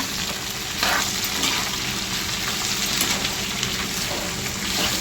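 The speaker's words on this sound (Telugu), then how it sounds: "వేపుడికి బెండకాయలు వేసేసుకుని బాగా తిప్పుకోవాలి." Sliced okra fries and is turned over in a pan, a dense, loud sizzle with scraping stir strokes rising briefly through it and no voices.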